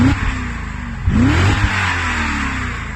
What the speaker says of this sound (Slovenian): A pritisnem malo na gas.